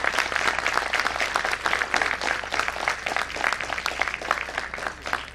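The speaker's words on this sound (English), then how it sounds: "Can we give them a round of applause?" Audience applause fills a management institute hall at the close of a CEO conclave panel, a dense, steady wash of many hands clapping at a constant level from start to finish.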